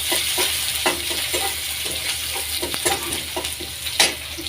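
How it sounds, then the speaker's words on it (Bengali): Garlic and ginger paste frying in hot oil with green chilies and onion, a steady sizzling hiss with irregular stirring scrapes throughout, close and fairly loud, no voices. "এই তেলটা গরম হয়েছে, এখন দিয়ে দিচ্ছি রসুন বাটা আর আদা বাটা।"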